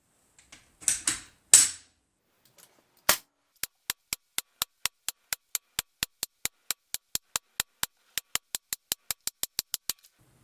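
A Sig Sauer Virtus .22 caliber PCP air rifle fires a long run of sharp semi-auto shots at a steady, quick rhythm, roughly two dozen crisp cracks in a row, after a few louder handling clatters.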